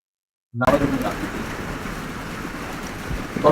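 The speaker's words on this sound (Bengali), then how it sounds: "ভিডিওগুলো কিন্তু অনেক পরিমাণে নয়েজ এবং বৃষ্টির সাউন্ড আসতেছে প্রচুর পরিমাণে।" Steady rain noise captured on an outdoor recording made during rainfall, a continuous broadband hiss that starts abruptly and fills the whole stretch, fairly loud and unbroken with a few faint tonal bits near the ends.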